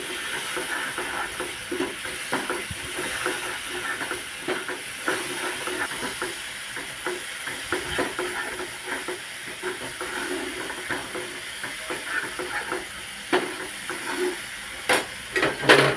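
Turmeric, salt and spices sizzle in hot oil in a pan for guar dhokli curry, with irregular scrapes and clacks of stirring over a steady frying hiss, growing sharper toward the end.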